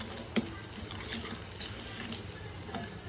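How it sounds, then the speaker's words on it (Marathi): Chopped onion sautéing in a pan over low gas while masala bhendi is being cooked, giving a soft, steady sizzle and hiss with a faint clink near the start and no talking. "आणि आता कांदा परतून घेते."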